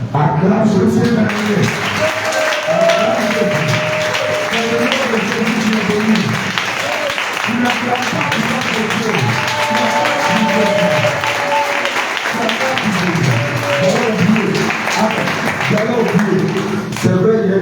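A congregation at a church teaching gathering applauds steadily for many seconds, with sustained clapping running under loud voices calling out in praise.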